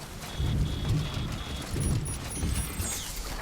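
Steady rainfall patters in the video game Death Stranding, a dense hiss of drops with low rumbling swells that rise and fall in waves, heard alone at moderate loudness.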